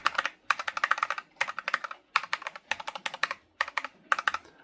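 Rapid typing on an NZXT Function 2 MiniTKL optical mechanical keyboard, clicky keystrokes in quick bursts separated by short pauses, close and fairly quiet.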